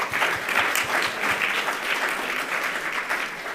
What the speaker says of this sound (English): join me in giving a warm round of applause for all of our speakers